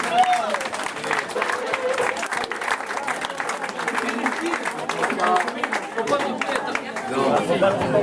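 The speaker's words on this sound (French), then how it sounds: "On peut applaudir." Applause at an end-of-season dinner party as medals are handed out, steady clapping mixed with lively crowd chatter and voices throughout.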